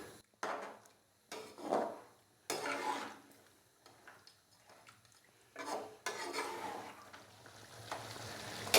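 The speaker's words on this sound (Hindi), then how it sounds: "अभी हम इसको मज़ीद भून लेंगे 4 से 5 मिनट के लिए ताकि टमाटर अच्छे से गल जाएं।" Tomatoes frying in beef karahi masala, loud bursts of stirring and scraping in the pot separated by quieter sizzling gaps, close and uneven, no speech.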